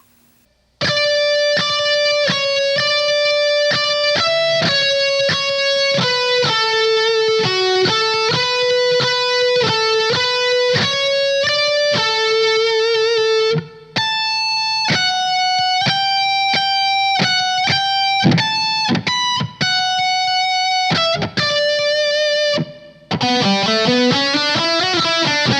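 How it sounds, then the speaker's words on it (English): A slow electric guitar solo from a power metal song: sustained, bending single notes ring out one after another at steady volume, with a busier run of notes near the end. "the entire guitar solo played slowly should sound like this"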